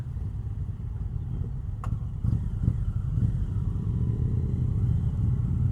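A 2025 Indian Chieftain Powerplus Dark Horse motorcycle idles with a low, quiet, steady engine rumble, picking up slightly partway through, with no talking.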